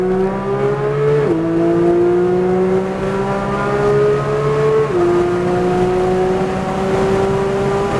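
A Porsche 911 race car engine drones loud and close at a steady high pitch on the Circuit of the Americas track, dipping briefly twice as the revs shift, with no talking.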